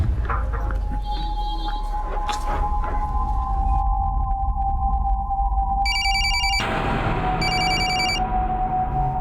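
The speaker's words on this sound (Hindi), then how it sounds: "मेरा फोन पिकअप करो" An electronic telephone ring cuts in over a busy indoor scene, its bursts of ringing arriving in two clear spells near the end and standing out loudly above the background din.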